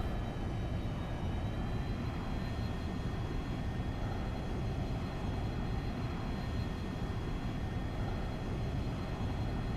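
In X-Plane 11, a light aircraft engine drones steadily at raised throttle on approach, a constant close hum with a faint whine and no voices.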